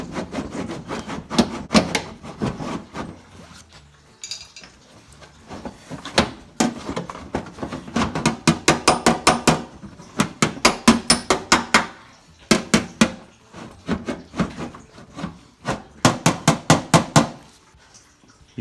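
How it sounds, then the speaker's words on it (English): Steel paintless dent repair tool rubbed back and forth over a crease in a car body panel, giving repeated bursts of fast scraping strokes in clusters with short pauses, close and fairly loud, no talking. "You can just rub that steel back and forth, and you can see it's starting to pull that out"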